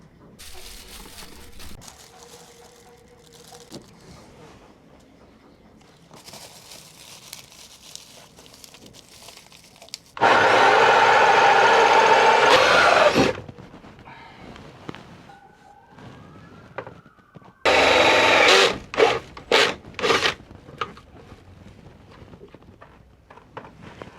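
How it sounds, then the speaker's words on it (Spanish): A power drill bores holes in a wooden panel to fit boat gauges: two loud sustained drilling bursts and a few short stabs, with quiet handling clatter in between. "voy a hacer los agujeros para colocarlos"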